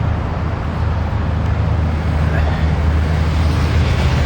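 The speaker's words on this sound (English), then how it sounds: "the bridge you can see through the trees there, where the noise is coming from, that's the highway going north" Highway traffic on a bridge over the Campbell River, heard through trees as a continuous, fairly loud roadway rumble and hiss mixed with wind, with no distinct passing vehicles.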